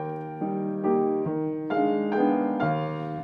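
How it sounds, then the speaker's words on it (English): A piano plays a lyrical theme from a Chopin Nocturne, sustained melody notes sounding one after another over a soft accompaniment, close and clear, with nobody speaking. "in this Nocturne by Chopin, I'm playing this little theme here."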